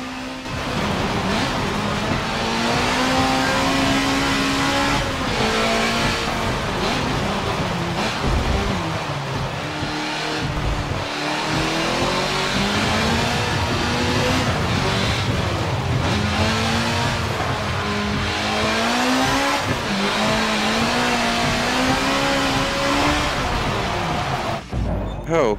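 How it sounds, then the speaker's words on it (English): Race car in Forza Motorsport 7 at full throttle on a wet, puddled track: a loud, continuous engine roar whose pitch climbs and dips through repeated gear sweeps, with a voice speaking at times over it. "Just gonna floor it."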